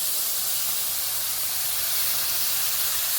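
Water poured into a hot pan of frying curry with fried small fish, taro and Malabar spinach, giving a loud, steady hiss and steam spray that holds unbroken throughout.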